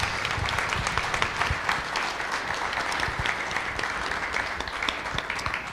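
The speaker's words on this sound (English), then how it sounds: "Can we give our panelists a round of applause?" An audience applauds panelists at the close of an energy factsheet launch event in Minnesota, with steady, dense clapping that stays even throughout.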